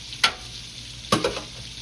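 Shrimp deep-frying in hot oil to a golden crisp, a constant bubbling sizzle broken by two sharp clattering bursts as the pieces are moved or stirred, no talk.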